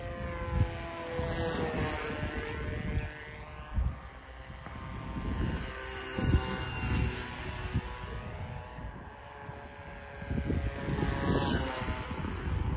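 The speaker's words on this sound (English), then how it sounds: "the pusher noise is still there, but it's less raspy and loud as the V-tail pushers and its predecessor" A pusher-propeller UAV plane on a long-range autonomous flight, its prop buzzing steadily with a raspy drone that rises and falls in pitch as it passes, fairly close and continuous throughout.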